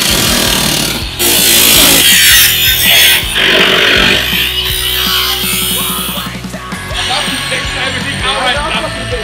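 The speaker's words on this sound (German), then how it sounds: "Dann schneiden wir das Auto ungefähr hier irgendwo durch." A power saw cuts through the body of a stripped-down car, a harsh, loud continuous grinding roar that shifts in pitch as the blade bites, with shouted voices and clanking underneath.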